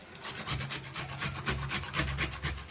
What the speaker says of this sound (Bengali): এবার এই মুলোগুলো একটু ঘষে নিই